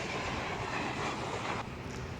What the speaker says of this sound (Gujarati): લે હાલે ટ્રેન એટલી જલ્દી ગઈ।